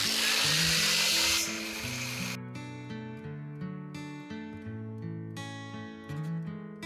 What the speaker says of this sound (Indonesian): Oke, langsung kita gerinda lagi.